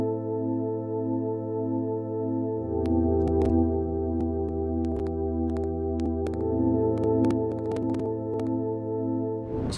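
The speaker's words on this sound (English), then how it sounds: "the preset is just ambient pad from the Juno 106 here in Sonology" An ambient pad preset from a Juno 106 in Sonology holds soft sustained chords, joined after a few seconds by a deeper bass layer and scattered percussive hits, all without talking.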